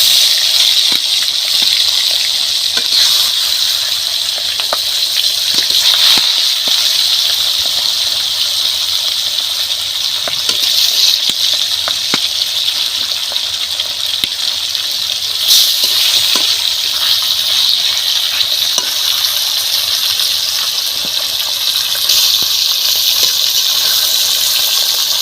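Pomfret pieces fry in hot oil in a pan, giving a steady, close hiss and crackle that runs on without a break for the whole stretch, with no talking.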